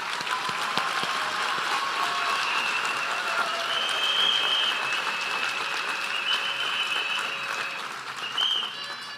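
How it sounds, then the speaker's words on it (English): A graduation pledge-ceremony audience applauds the Health Sciences graduates with continuous, even clapping at moderate distance, lasting throughout, with faint higher tones and murmurs mixed in. "Let's give another round of applause."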